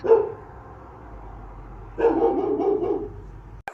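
A dog barks in two bursts, one short yelp at the start and a longer run of barking about two seconds in, fairly close and alone.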